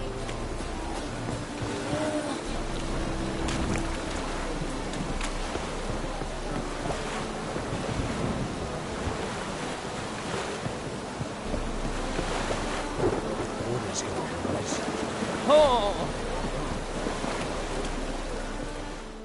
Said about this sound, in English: Rain like this would fetch a fortune in Zerrikania.